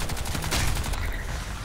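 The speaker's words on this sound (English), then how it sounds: "that machine gun is pretty risky to stay there" Machine gun fire in the video game Crysis 2, a dense, continuous rattle of rapid shots filling the short moment, loud and close.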